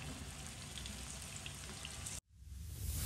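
Fish dropped into hot mixed mustard oil sizzles and spatters loudly and steadily, then cuts off abruptly before the sizzle swells back, with no talking.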